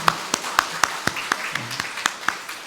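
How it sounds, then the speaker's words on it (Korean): An audience at a church gathering claps in a steady, rhythmic unison beat, about a dozen crisp claps in quick succession at moderate volume. "여러분 박수로 여러분 감사 인사를 드리겠습니다"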